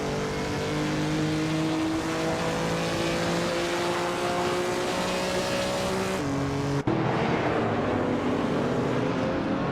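A 1971 Ford Falcon racing car drones steadily through gears, its engine note climbing in long rising pitches with a brief shift near the end, heard up close and continuous without talk.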